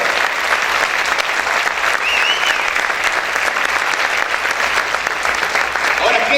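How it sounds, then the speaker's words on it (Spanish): A church congregation at a Spanish-language service claps loudly and steadily, a dense, continuous roar of many hands that lasts throughout without a break. "Un aplauso para el Señor,"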